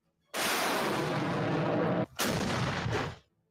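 Heavy artillery fire in the northern countryside of Hama, heard as a sustained, loud roaring blast that cuts off briefly and then resumes in a second burst before ending abruptly, with no voices.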